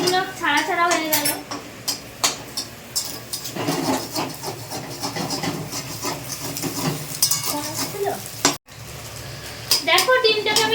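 Egg bhurji scrambling in a pan in a Bengali home kitchen, with steady sizzling and repeated scraping stir strokes and light utensil clinks, a voice speaking over it.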